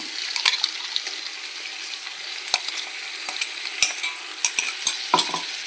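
Green chili, coriander and mint paste is stirred in a hot pan for chicken biryani, with a steady sizzle broken by repeated close scraping and clacking strokes of a spoon.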